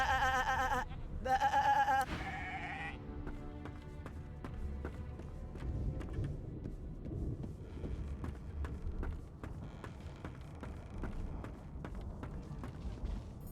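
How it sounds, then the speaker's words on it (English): Sheep bleating in Divinity: Original Sin 2, a couple of short calls at the start over a steady low game ambience, then fading into background rumble and soft ticks. "Shaking her fluffy coat, the sheep..."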